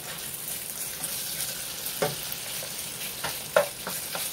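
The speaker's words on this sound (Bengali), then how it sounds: "এটা ভাজা হচ্ছে থাকি, একটু লাল" Marinated food fries in a pan with a close, continuous sizzle, broken by a few sharp clinks and scrapes of stirring, with no talking.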